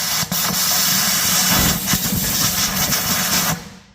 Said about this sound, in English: Just kind of spray that hole out and clean that up.